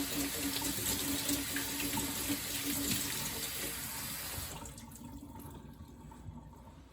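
Tap water runs into a pot as brown rice is rinsed for red beans and rice. The close, steady rush lasts about four and a half seconds, then drops to a quieter trickle and swishing.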